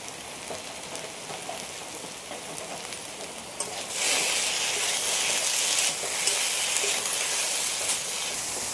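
Okra (bhindi) fries in hot oil in a pan with a steady, hissing sizzle that grows louder about halfway through. No voices are heard.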